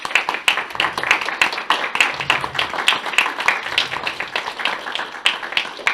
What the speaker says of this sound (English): Can we have a round of applause for my speakers